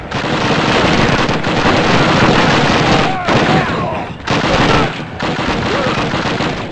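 Loud, dense gunfire from the video game Call of Duty 1, with sustained bursts of shots and explosions over several seconds that break off briefly twice before resuming.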